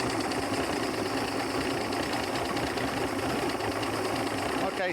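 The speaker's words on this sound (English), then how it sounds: "So as you can see, the motor is running." A motor runs steadily and loudly with a fast, even knocking chug, unbroken for the whole stretch.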